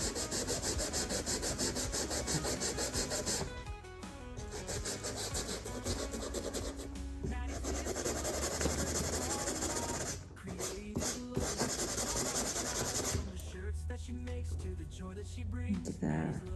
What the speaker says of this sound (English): I'm just trying to take off that rust right there, if I can.